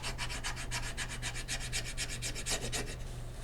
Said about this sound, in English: I'm just taking my Cricut scraper